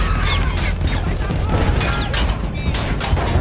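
A grenade going off in Battlefield 1 during gunfire, with loud bursts and rumbling booms layered over a dense battle din.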